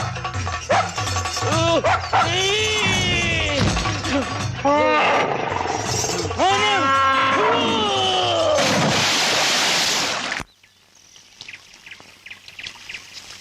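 Several loud dog barks come in a rapid, overlapping burst over a busy background, then cut off abruptly into a much quieter stretch.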